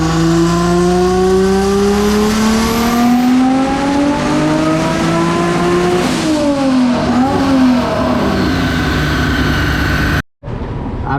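A twin-engine Suicide MX3 on a dyno, running on 94 pump fuel, revs up loud and close with a steadily rising engine note, drops back briefly, then climbs again before cutting off abruptly near the end.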